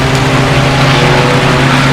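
A loud, steady engine roar with a low droning tone from winged single-seater Formula race cars running close by in a club race at Mid-Ohio, kicking up spray, holding constant throughout.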